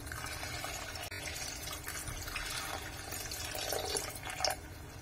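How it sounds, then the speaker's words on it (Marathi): Water pours into a pan of sautéed spice paste nearby, a steady splashing rush with a light hiss that carries on for several seconds. "थोडंसं याच्यामध्ये पाणी घालून घ्यायचंय"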